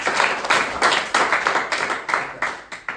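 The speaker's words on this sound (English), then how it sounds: "Give Sean a big round of applause." A close-up magic show audience claps for a volunteer coming up, with quick, bright, slightly uneven bursts of applause running through the whole short stretch.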